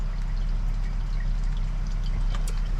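Engine fluid drains from a failed sailboat engine into a hand-held bowl, a steady close pouring trickle running continuously over a low mechanical hum with no talk.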